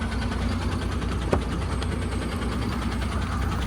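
A fully overloaded dumper truck engine runs with a steady low rumble at moderate distance as it pulls away at night, broken by a single brief click partway through.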